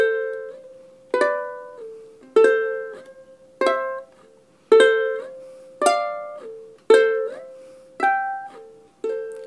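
A plucked ukulele phrase moving up and back down in pairs of notes, slow and evenly spaced, each note ringing briefly before the next, no voices.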